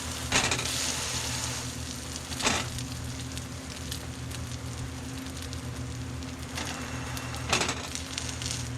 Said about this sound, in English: we're going to toast the bottom of these buns